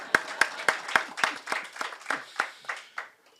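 An audience claps in a hall for about a dozen distinct, evenly spaced claps that fade and trail off at the end.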